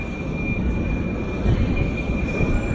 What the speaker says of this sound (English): It seems that another train is arriving now.